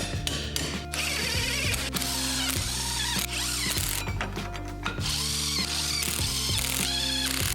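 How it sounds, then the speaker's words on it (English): U-bolts and plates are tightened onto a car axle during a drivetrain restoration, with a continuous, close mechanical ratcheting and whirring power-tool drone that holds steady throughout. "now I can install the U-bolts and plates"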